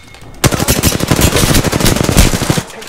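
Loud automatic gunfire from the Apex Legends video game erupts suddenly and keeps going as rapid, close bursts of shots for the rest of the moment.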